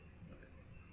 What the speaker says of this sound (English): I want that peak of the mouse click right on my line